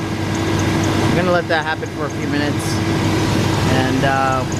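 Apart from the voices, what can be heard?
car engine idling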